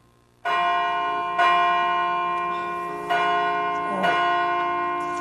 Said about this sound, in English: Those darn bells!